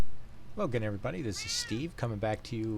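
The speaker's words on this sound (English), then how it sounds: "if you hear him doing a meow meow in the background" A pet cat meows in the background of a recording session, a brief wavering call in the middle while someone talks steadily over it.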